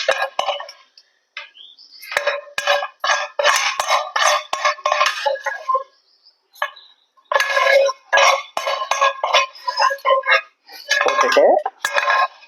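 Cooked vegetables are stirred into beaten egg in a bowl for bread omelette, giving repeated clinking and scraping of a utensil against the bowl in quick bursts with brief pauses, close and fairly loud.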